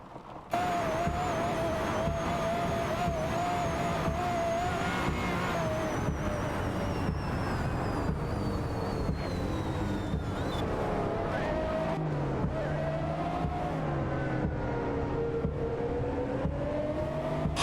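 Race car engines roar through an AI-simulated race, a continuous loud, even drone with a high whine that slowly drops in pitch before settling into a lower, wavering hum.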